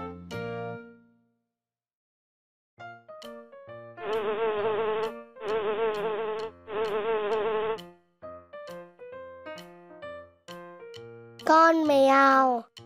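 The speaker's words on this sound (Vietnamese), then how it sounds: "Con ong." A bee's buzz comes in three steady bursts of about a second each, set among soft musical notes in a cartoon animal lesson for small children, with a voice near the end.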